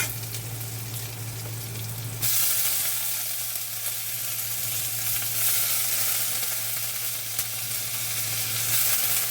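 Soaked chana dal frying in hot oil, a loud, close, continuous sizzle that surges brighter after the first couple of seconds and holds steady with a low hum beneath.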